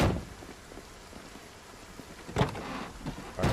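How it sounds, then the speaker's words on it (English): Steady rain falls during a thunderstorm in the zombie survival game Project Zomboid, a continuous wash with two brief louder swells near the end. "I want to check the radio and see just how long this thunderstorm is going to go on for"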